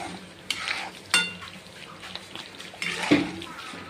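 Thick paneer gravy being stirred and sautéed in a pan, with soft scraping and occasional clinks of a spoon against metal over a low sizzle, close and fairly quiet.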